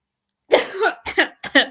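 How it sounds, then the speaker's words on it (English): Three quick, close coughs in a row, sharp and throaty, in an otherwise quiet room. "sorry, I'm just coughing."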